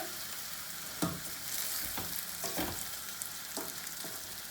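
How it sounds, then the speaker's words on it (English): Rice sizzling as it is stirred in a hot pan with half-cooked zucchini for a risotto, a steady close fry broken by several scraping stirs, with no voices. "you add your rice directly in the pan. You stir a little bit."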